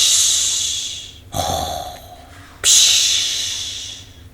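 A storyteller's voice imitates a sleeping witch snoring: long breathy hissing inhalations and a snort-like burst in between, close and fairly loud, with no words.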